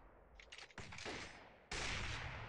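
Gunfire in the mobile shooter Gun War: Shooting Games: a few quick shots, then a louder, sustained blast of fire that runs to the end.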